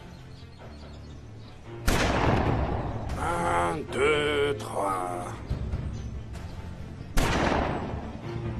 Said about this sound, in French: Je vous dis que ce sont des coups de feu.